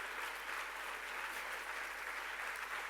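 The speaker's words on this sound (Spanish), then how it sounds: "Dele fuerte el aplauso a Él." A church congregation applauds during a Spanish-language sermon, giving a steady, even wash of many hands clapping at moderate distance, sustained without a break for the whole moment.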